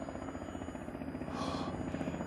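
Faint, distant helicopter drone passing overhead outdoors, a low steady thrum that swells slightly midway through, with no talking.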